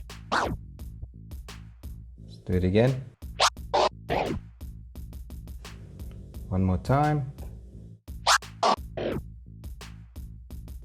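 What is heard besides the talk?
DJ two-click flare scratch with crossfader on DDJ controller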